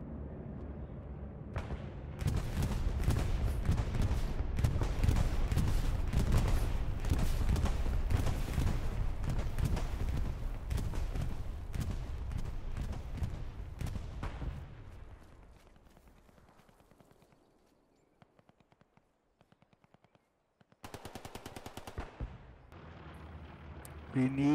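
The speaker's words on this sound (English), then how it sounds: "They're shooting at us." Gunfire and artillery in the WWII shooter Hell Let Loose, a dense, loud barrage of shots and blasts for about fifteen seconds that fades out, then a few brief bursts of shooting return near the end.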